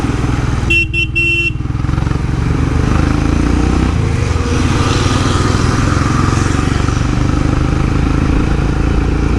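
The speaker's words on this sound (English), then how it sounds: "let's go down, get on the bike and let's get going" An idling motorcycle loaded with luggage, close and steady, gives a couple of short horn toots, then the engine revs and settles into a continuous running drone as the bike pulls away.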